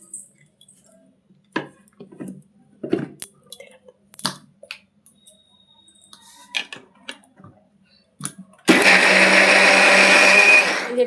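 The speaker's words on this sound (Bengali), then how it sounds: "এটা মিক্সি করে নেব আমি।" A kitchen mixer grinder whirs loudly as it grinds soaked lentils with a little water into dhokla batter. It starts abruptly after scattered quiet kitchen clatter and runs as a steady, close roar to the end.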